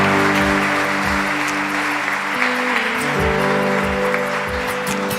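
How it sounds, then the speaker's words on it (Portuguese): A church congregation applauds its volunteers during a service, broad clapping held steady for several seconds beneath sustained organ or keyboard tones. "Vamos aplaudir o Senhor por esses homens e mulheres"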